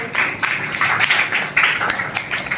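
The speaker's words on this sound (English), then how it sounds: "a huge round of applause for your hard work" A classroom full of students clapping in a round of applause, a steady patter of many hands close by with a few sharper claps standing out.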